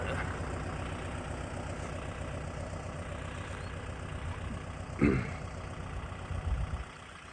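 A Kubota MU5702 tractor idles in a field while forming crop ridges, a steady low rumble at moderate distance, broken by a brief clunk near the middle and a short louder surge near the end.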